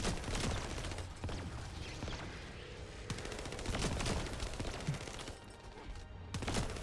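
Continuous automatic gunfire from a sci-fi looter shooter, The First Descendant, as a Valby build blasts at targets during a co-op fight; dense, sustained bursts run throughout with mechanical clatter and no pauses.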